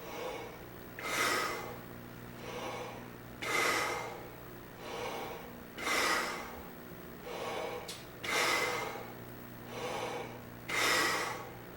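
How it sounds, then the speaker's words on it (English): A trumpet player does a breathing exercise with five slow inhale-exhale cycles, each exhale voiced with a soft syllable, as airy close-up breaths swelling and fading in a steady rhythm over a faint low hum. "take an additional 5 inhales and exhales without that tube, but add the to syllable to the exhalations"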